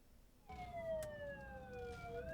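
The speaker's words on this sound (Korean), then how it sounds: "신고와 동시에 급하게 출동하는 구급차." An ambulance in Gyeongju, South Korea, rushes out on an emergency call, its siren wailing in a slow falling and rising sweep, heard faintly over low traffic rumble.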